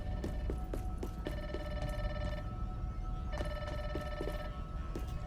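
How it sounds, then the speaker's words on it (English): A telephone rings inside the video game Grounded 2, with two repeated bursts of a bright electronic trill that stop and start again over a steady low hum, clear and fairly close. "I hear a telephone ringing?"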